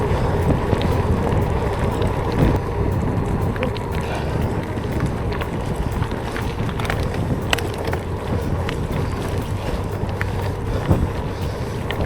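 A steady headwind buffets the microphone while cycling a gravel route along the Loire from Blois, a constant low rushing roar with occasional thumps and tyre noise, no talk.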